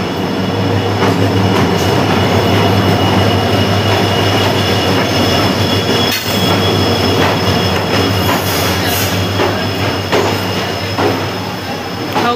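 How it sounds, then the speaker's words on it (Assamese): A late-running train pulling into a station on the Guwahati to Visakhapatnam route, a loud, continuous rumble of wheels and carriages with squealing metal and a steady clatter filling the whole stretch, no talk over it. "আমাৰ ট্ৰেইন আহি পাইছে বহুত লেট কৰিছে ট্ৰেইনখনে"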